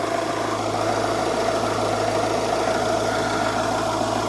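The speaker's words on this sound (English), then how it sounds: "And as you can see, the engine is running fine." A repaired engine, with no oil leaking, idles steadily with a constant mid-pitched hum and slight vibration, close and fairly loud with no talking.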